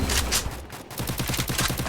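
Rapid automatic gunfire in the video game Free Fire rattles out in a fast run of repeated shots over about two seconds, loud and close, with no speech.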